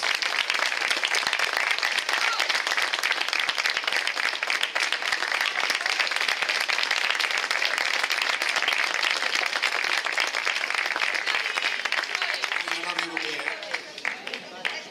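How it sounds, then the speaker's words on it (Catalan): An audience claps steadily and densely for performers at a closing event, a sustained wash of applause that fades toward the end, where faint voices come in. "Un fort aplaudiment per tots ells."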